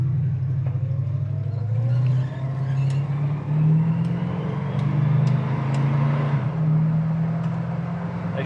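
A 1972 Plymouth 'Cuda engine drones close by, rising in pitch as it accelerates, then dropping briefly for a gear change before climbing again, with road noise underneath.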